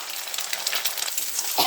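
Eggs sizzle and crackle in hot oil with fried onion and chili, a steady close frying hiss with a small clatter near the end and no talking.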